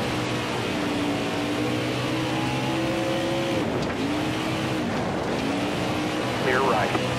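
Race cars in the NASCAR Heat 5 video game on a dirt oval at Texas drone steadily as they circle, engine pitch rising and falling as cars pass close by, with a spotter's voice speaking over the constant engine noise.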